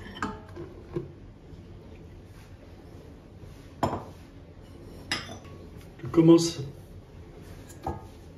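Sparse clinks and scrapes of a utensil against a bowl while dough for an Easter colomba is mixed, close and quiet with irregular taps and one busier clatter, a voice speaking softly in between.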